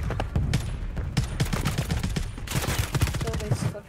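Ram 9 submachine gun hip-fired in Call of Duty on Rebirth Island, rapid repeated bursts of close, loud shots across the whole stretch with brief gaps.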